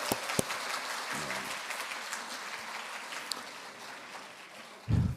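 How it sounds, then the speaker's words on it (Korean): Audience applause at a national brand conference lecture hall in Korea, a steady wash of many hands clapping throughout, with a brief low voice near the start and a louder burst at the end. "여러분 스스로를 위해서 큰 박수 한번 드리겠습니다"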